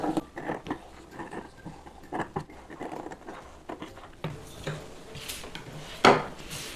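Scissors cut through saree fabric in a run of quick, close snips and rustles that come at an irregular pace, with a louder crisp cut near the end and no one talking.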